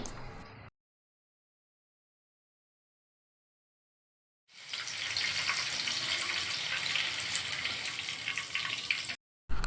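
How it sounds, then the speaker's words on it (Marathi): Green chillies fry in hot oil with the gas turned off, giving a steady, dense hiss and sizzle that starts after a stretch of silence and then cuts off abruptly. "गॅस बंद करून ह्या गरम तेलातच मिरचीही तळून घेऊया"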